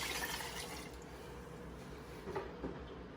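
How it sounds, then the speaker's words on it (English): Water pours into a pot for cooking rice, a soft steady splashing fill heard fairly close and low in level, with a couple of light knocks near the end. "I got 3 cups of rice, so I should be putting 6 cups of water"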